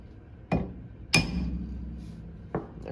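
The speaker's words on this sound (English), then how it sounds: "It's a cold chisel and a 5-pound sledger." A 5-pound sledgehammer strikes a cold chisel during VW wheel bearing and ABS sensor work: three sharp, ringing metal blows spaced unevenly, close and loud, each leaving a short metallic decay.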